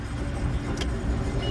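An old rig's engine running at a steady, low, rough idle, close and continuous throughout, with a brief clatter partway through.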